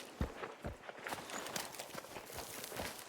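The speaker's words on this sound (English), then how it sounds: "listen to the fuse, listen to Joe's footsteps" Footsteps in Hunt: Showdown, a series of soft uneven thuds over a crackling fuse hiss, with no talk.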